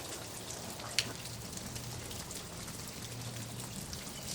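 Rain falls steadily on a rainy day, a soft continuous patter of drops on surfaces with one brief sharper tap, faint and even with no voices.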